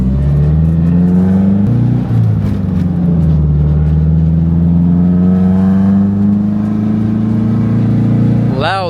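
A Nissan 240sx S14 on the road. Its loud, close engine drones steadily through gear changes, then revs sharply and climbs in pitch at the very end.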